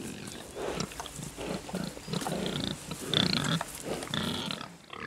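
A pig on a traditional farm, likely grunting and snuffling close by in a continuous rough stream over a low background, with no one talking.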